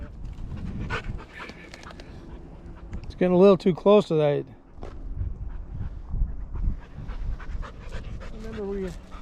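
A dog panting and whimpering beside the Klamath River at a campground, a short burst of close, rhythmic panting mid-clip, with people talking over the river's steady background rush.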